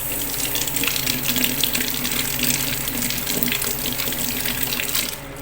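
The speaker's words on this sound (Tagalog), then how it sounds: "ang una ko pong gagawin ay huhugasan ko muna itong kamatis" Tomatoes being rinsed under a running kitchen tap: a steady, close rush of water into the sink that holds evenly throughout, with no talking.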